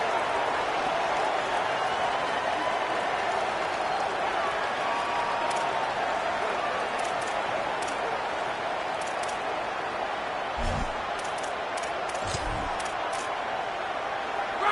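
A large football stadium crowd at a Tennessee versus LSU game roars in a continuous, distant wash of yelling and screaming, with a commentator talking over it and a couple of short thumps near the end.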